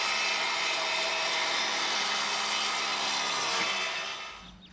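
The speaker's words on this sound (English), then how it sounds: "He then cut the corner posts to a point to help make them easier to hammer in." Wooden corner posts for a raised garden bed are cut to a point with a power saw, giving a continuous loud whining buzz that fades off in the final moment.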